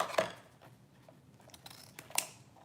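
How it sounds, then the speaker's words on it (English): Scissors snipping through ribbon while finishing a Christmas wreath, a few short crisp cuts in a quiet room, close and fairly faint. "let's cut this ribbon"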